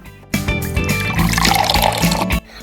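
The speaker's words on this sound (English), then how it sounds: "I'm just gonna fill this one up with water carefully like before" Water pours steadily into a plastic toy blind bag from a neon-keychain surprise toy, a continuous trickling fill lasting about two seconds, close and fairly loud, with a faint tonal hum underneath.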